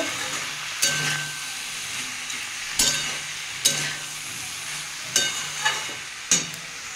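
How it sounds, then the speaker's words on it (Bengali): Fish-head curry spices with chilli powder and turmeric being sautéed in a pan, with a steady sizzle broken by several sharp spatula scrapes and stirring clatters at irregular intervals. "এক চামচের একটু কম লঙ্কার গুঁড়ো, পরিমাণ মতো হলুদ সব দিয়ে বন্ধুরা একটু কষে নেব।"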